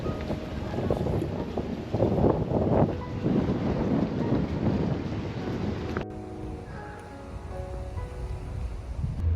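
Strong wind in Hiroshima buffets the microphone with loud, roaring gusts, then abruptly drops to a quieter, calmer background hum.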